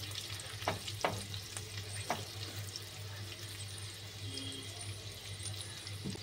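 Kasuri methi and Kashmiri chili powder frying for masoor dal fry, heard as a low, steady sizzle with a few sharp utensil knocks and stirring taps and a constant hum underneath.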